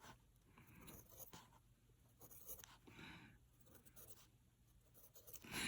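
Pencil tapping and scratching dots onto paper for a Celtic art grid, a series of soft, close, irregular ticks and light scrapes, quiet and unaccompanied by speech.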